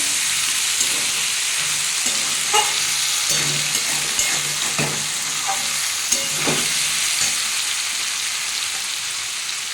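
Potatoes and tomatoes fry in a pan for a Bengali cauliflower and potato posto dish, with a loud, continuous sizzle and occasional stirring clinks, and no talk over the cooking.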